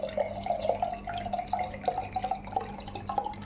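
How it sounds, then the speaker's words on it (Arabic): Water pours into a large glass with a steady burbling trickle and small splashes, continuing without pause and heard close up with no talking. "نضع بها بعض الماء"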